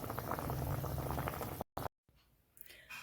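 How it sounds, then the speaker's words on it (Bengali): Fish curry with mustard paste simmering in a pot, a close bubbling boil for about a second and a half before cutting off into quiet room sound. "সর্ষে বাটা দিয়ে মাছের ঝাল"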